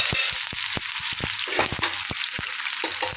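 Hot oil tempering for dal sizzles and crackles steadily, with sharp pops and spitting bursts scattered throughout, close and loud with no voices.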